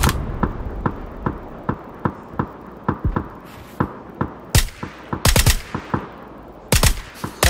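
Rapid bursts of automatic gunfire in the battle royale game PUBG, sharp repeated shots in an uneven rhythm, some nearer and louder clusters toward the end, with no talk over them.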